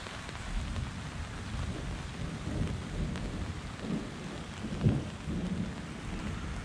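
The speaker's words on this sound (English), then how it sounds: "thunder, lightning going on here." A thunderstorm outside a canvas tent: steady rain patters throughout while low thunder rumbles roll in and swell, one stronger peak near the end, with no voices.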